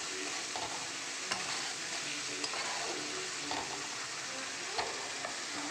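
Fish eggs and potatoes fry in a pan, a steady close sizzle broken by occasional soft scrapes and taps as they are stirred, with no one speaking.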